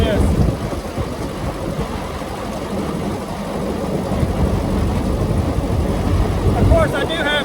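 Off-road buggy with tractor tread tires and stiff suspension driving along, its loud engine droning steadily and close throughout, with a voice talking over it.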